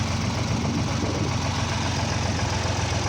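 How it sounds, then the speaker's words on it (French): A farm tractor's engine runs steadily and loudly from inside the cab, a constant low rumble with mechanical vibration and no pauses, with no voices over it. "Moi je suis dans le tracteur"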